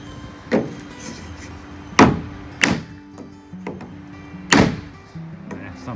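Wooden boards of a Lowe's shed being tapped into place, giving four sharp, loud knocks spaced a second or two apart, with faint hammering noise and low background sounds between them.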